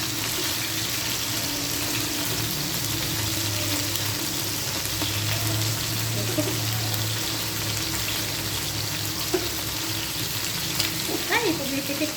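Boneless chicken coated in pepper, salt and a little flour frying in hot oil, a steady, close sizzle with occasional sharp pops, running continuously with no talk.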